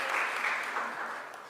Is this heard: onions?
no